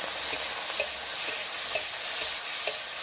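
Tomatoes frying in a pan with dried mustard seeds and dried chillies, giving a steady, close hiss of sizzling oil with faint stirring scrapes and small crackles throughout, no voices.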